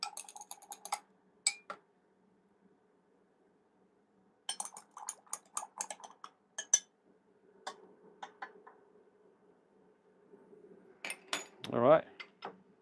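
Spoon clinking against a coffee cup while stirring, with light metallic taps in short bursts near and fairly faint, separated by quiet gaps, ending with a brief louder swirl.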